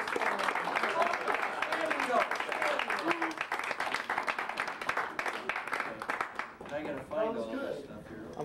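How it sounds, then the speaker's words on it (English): Guests at a company Christmas party clap together in a dense, steady round of applause that runs throughout, with voices talking over it and the clapping thinning briefly near the end. "Let's give her a hand."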